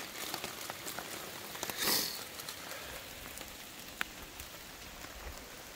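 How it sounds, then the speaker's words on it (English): Morning rain falls at a campsite at Pictured Rocks National Lakeshore, a steady soft hiss of drops pattering on surfaces with a few sharper nearby drips, and no voices. "Rain is letting up a little bit."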